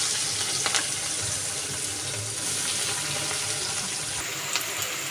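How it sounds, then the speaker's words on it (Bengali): Chopped onion goes into hot oil tempered with whole spices for a soft semolina pulao, giving a steady close sizzle with a few light clinks of a utensil and no talk. "এবার কাটা পেঁয়াজটা দিয়ে দিলাম।"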